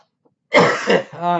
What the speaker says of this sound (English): sorry for the coughs